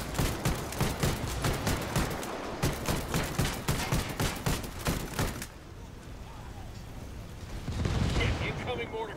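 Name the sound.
incoming mortar fire in Ghost Recon Wildlands video game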